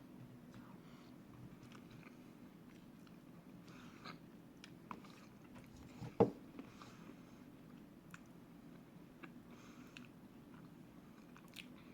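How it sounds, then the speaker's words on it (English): Quiet close chewing of Ben & Jerry's vegan Chunky Monkey ice cream with banana and walnut chunks, faint soft bites and one small crunch amid low room noise. "I actually just got a big chunk of walnut from my first little bite here."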